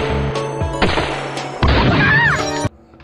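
Gunshots and impact cracks in a hunting video game, several sharp hits and bursts in quick succession over game music and effects, fairly loud and up close.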